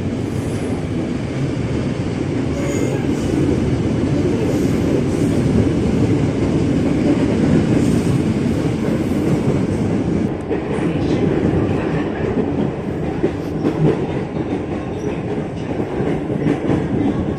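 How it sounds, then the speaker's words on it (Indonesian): A long freight train rumbles past close by at night near Jakarta, passing a commuter train, its wheels clattering in a continuous heavy roar with occasional squeals. "baru berangkat kita papasan sama rangkaian kereta api barang yang menuju ke luar Jakarta"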